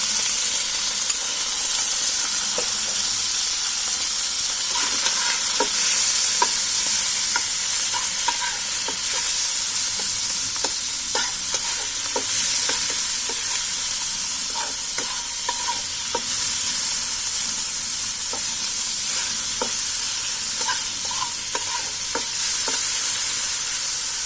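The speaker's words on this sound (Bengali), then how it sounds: "আবার তেল দিয়ে দিব মাংসটা যে ম্যারিনেট করে রেখেছিলাম সেটা ভাজার জন্য" Marinated meat sizzles steadily in hot oil in a pan, with a loud continuous fry hiss broken by regular scraping strokes of a spoon stirring it, and no talking.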